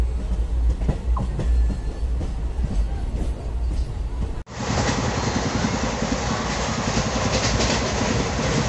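A passenger train riding on the rails rumbles loudly and continuously with rattling carriage noise, heard from inside a moving coach; partway through the sound shifts abruptly to a brighter, steadier roar.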